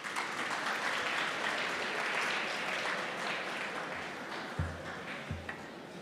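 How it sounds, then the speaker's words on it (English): A sustained round of crowd applause at a school governing body meeting, dense and even, with a couple of brief knocks or taps near the end as it carries on. "Another round of applause"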